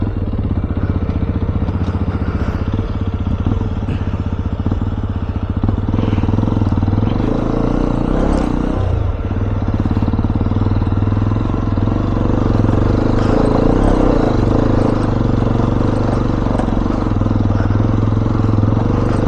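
A Hero XPulse 210 motorcycle rides off-road through dips and ruts, its engine droning loud and continuous close by, with rattling and clatter from the rough ground.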